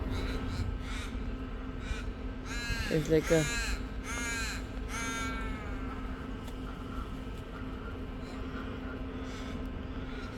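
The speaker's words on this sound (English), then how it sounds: "I feel like seeing these birds every time when I come to the park" Crows caw repeatedly from a park tree on a sunny morning walk, a cluster of harsh calls near the middle of the clip over steady outdoor background, with a person speaking briefly.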